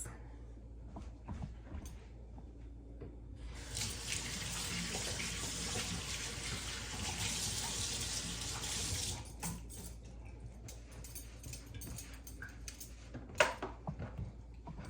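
A hand being rinsed under a running kitchen tap while preparing pholourie mixture, a steady splashing stream for about five seconds, with quieter clinks and handling noises before and after.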